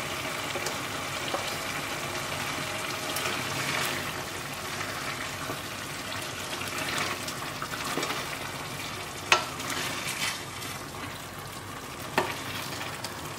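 Green masala for Goan beef curry frying in a pan, a soft steady sizzle broken by occasional scrapes and taps of a stirring spoon, fairly quiet with no voices.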